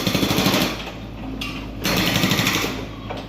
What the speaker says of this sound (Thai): เขากำลังเจาะท่อวาง ท่อน้ำประปาทุกคน